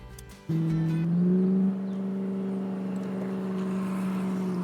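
The Mahindra BE 6 electric SUV plays its synthetic V8 tribute sound outside the car, a steady low engine-like drone with a brief rise in pitch and volume before settling, heard from nearby without talking.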